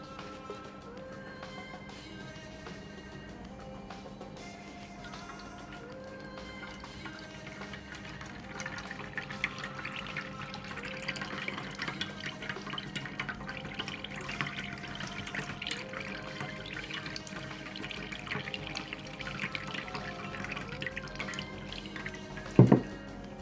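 Aloe vera and fenugreek mixture being sieved for a hair spray, liquid dripping and trickling steadily through the strainer at close range, with a brief louder clatter near the end and no talking.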